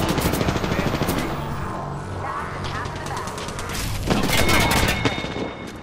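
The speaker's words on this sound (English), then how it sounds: "That's another squad shooting at us." Rapid gunfire from another squad in the game Apex Legends, dense bursts of shots rattling continuously and loudly throughout, with a player talking underneath.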